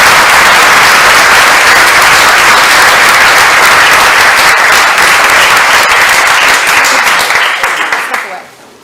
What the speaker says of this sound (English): I think we're out of time for questions, so let's give Dave another round of applause.